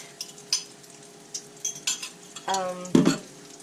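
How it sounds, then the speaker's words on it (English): A utensil scrapes and clinks in a pan while rehydrated freeze-dried egg cooks as scrambled egg. A faint sizzle sits under scattered, close taps and stirring strokes. "Drop it in here and make a scrambled egg."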